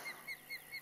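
Repeated chirping bird call from a fishing video game set in the Florida Everglades, four short high-pitched calls evenly spaced, faint and a little distant, with no talk.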